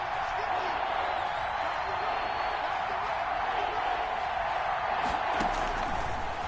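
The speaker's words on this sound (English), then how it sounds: "the crowd getting into it as we come up on a big 3rd down" Football stadium crowd at an Eagles vs. Broncos game, a steady roar of cheering and noise that holds throughout with a brief swell near the end.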